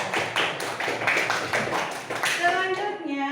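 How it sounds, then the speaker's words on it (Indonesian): A class of sixth-grade children claps their hands together in a short burst of quick, close, lively clapping that fills the room, with a voice heard briefly toward the end. "Tepuk tangan untuk kalian."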